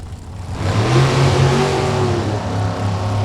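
High-horsepower drag racing cars launching at a dirt track race in Topeka, a loud, close roaring engine rising in pitch as it accelerates hard and holds a sustained, droning whine.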